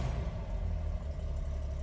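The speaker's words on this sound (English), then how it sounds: "Do a little cold start here, key on, give it one pump, fires right up." A 1965 Chevrolet Corvair Monza's air-cooled engine runs steadily just after a cold start, a close, continuous low rumble with a sport exhaust, with no voices over it.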